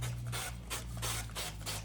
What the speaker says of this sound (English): spray it with my little olive oil here